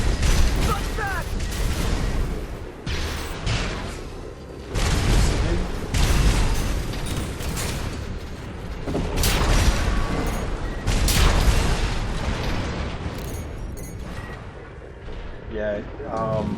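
Mech combat in Armored Core VI: Fires of Rubicon against mass-produced MTs, with repeated heavy booms of artillery and gunfire bursts, clanking mechanical sounds and a loud, dense battle din throughout, alongside speech.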